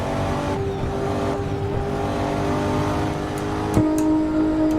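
A Tofaş car's engine in the Assetto Corsa racing game revs loudly and steadily with a strong droning tone, briefly shifting pitch near the end, with no talk over it.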